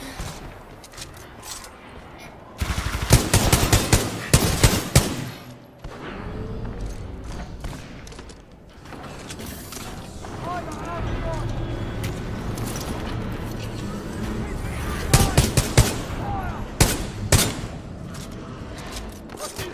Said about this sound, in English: There's a stalker shooting at me.